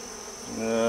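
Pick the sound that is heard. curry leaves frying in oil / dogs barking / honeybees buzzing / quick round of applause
honeybees buzzing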